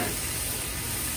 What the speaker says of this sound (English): right now we're just going to let the salmon sit and sear on that side